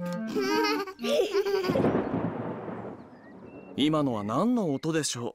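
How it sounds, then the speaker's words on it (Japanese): Thunder rumbles through a Peppa Pig cartoon as a broad, loud roll lasting about two seconds, between stretches of cartoon character speech before and after it. "雷の音よ。"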